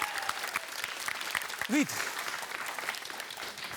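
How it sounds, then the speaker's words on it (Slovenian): Applause breaks out for a girls' primary school team from Murska Sobota at a Slovenian school cooking contest, a busy patter of clapping with a short spoken word near the start and a brief tonal blip partway through. "En velik aplavz za osnovno šolo 1 Murska Sobota."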